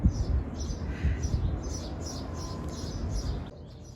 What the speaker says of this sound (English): Listen to the birds. They're happy anyway.